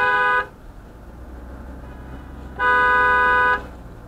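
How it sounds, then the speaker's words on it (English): Two loud car horn blasts separated by a pause of street noise: a brief honk cut off at the start, then a longer sustained one. "She wanted to honk back."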